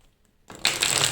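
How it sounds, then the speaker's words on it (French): A deck of tarot cards is shuffled and cut: silence, then a quick close riffle of cards rising sharply into a dense, bright flutter for about half a second. "je fais une petite coupe avec un autre jeu"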